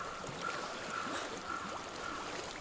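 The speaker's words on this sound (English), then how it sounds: "I hear water." Flowing water in the video game Hellblade: Senua's Sacrifice, a soft continuous stream trickling at low volume over a few seconds, with no speech.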